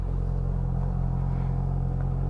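A Ducati Streetfighter V4S motorcycle pulls away on a road ride, its engine a steady loud low rumble with no talking.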